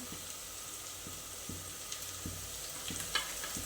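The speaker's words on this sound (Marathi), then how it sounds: "आता हे छान असं परतून घ्यायचं आपल्याला" Grated ginger and finely chopped garlic sauté in a pan, a steady soft sizzle with faint periodic taps of a spoon stirring, no voices.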